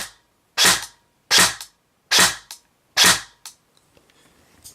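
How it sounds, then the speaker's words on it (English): A Dboy Scar L airsoft electric gun fires five sharp, loud, close shots with even spacing of roughly a second apart, and faint mechanical rattle afterward. "So go to just a basic shooting test with my little amplifier."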